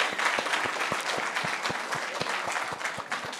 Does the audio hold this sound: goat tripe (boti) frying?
no